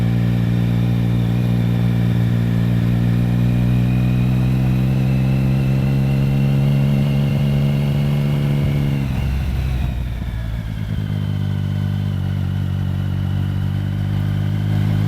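Triumph Speed Triple motorcycle engine droning steadily while riding, loud and close, its tone rising with speed before a brief dip as the rider shifts, then settling back into a strong even hum.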